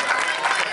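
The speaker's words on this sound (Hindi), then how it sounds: "तालियां तो होनी चाहिए, तालियां होनी चाहिए" Applause from a crowd at a school CBSE national kho-kho match: a brief, dense patter of clapping hands with a voice mixed in.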